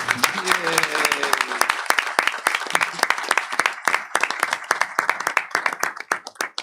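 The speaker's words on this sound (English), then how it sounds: "let's give our 4K students and teachers a round of applause" An audience at a school district board meeting applauds 4K students and their teachers, dense steady clapping from many hands throughout, loud and close, with a few voices mixed in at the start.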